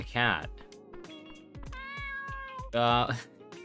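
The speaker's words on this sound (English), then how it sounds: "Oh, the cat." A cat in the video game Dave the Diver meows twice, loud and close, with short game sound effects and a sustained tone between the meows.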